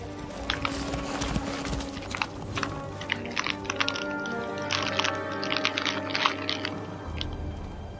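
Horse hooves clip-clopping in the medieval video game Kingdom Come Deliverance 2, a steady, close and fairly loud run of hoof strikes layered with game ambience and no talking.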